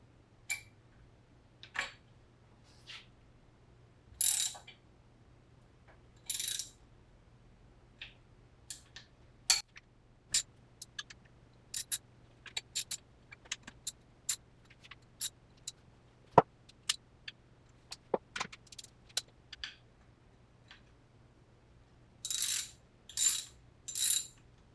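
A torque wrench tightening case fasteners on a 1972 VW Super Beetle engine during a rebuild, with sharp ratcheting clicks in short bursts and scattered single ticks, close and quiet over a faint low hum.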